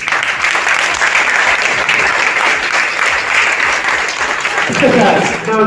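A large audience at an award ceremony in Madurai applauds the students' parents with sustained, loud, dense clapping, while a voice over a loudspeaker starts speaking near the end.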